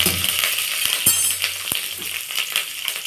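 Curry leaves go into hot sesame oil for a mutton kulambu and fry with a steady, close crackling sizzle, broken by a few light metallic clinks.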